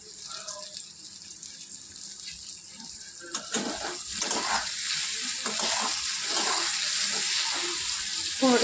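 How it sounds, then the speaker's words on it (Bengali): Ash gourd sizzles in a frying pan with turmeric and salt, a steady hiss that swells and grows busier midway as the pieces are stirred, staying fairly close and continuous. "কুমড়োটা বেশ ভাজা ভাজা করে নিতে হবে, একটু ভাজা ভাজা হবে।"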